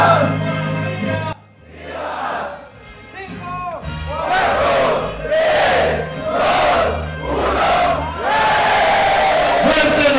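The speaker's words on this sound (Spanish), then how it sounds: "Lanzamiento de birrete." Newly graduated technical students roar and cheer together in rising, repeated group shouts as they toss their caps at a graduation ceremony, loud and close, swelling in waves over about ten seconds.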